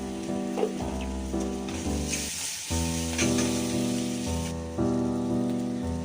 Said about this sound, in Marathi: कांदा लवकर लाल व्हावा यासाठी थोडस मीठ घालून घ्यायचं त्यामध्ये म्हणजे कांदा लवकर परततो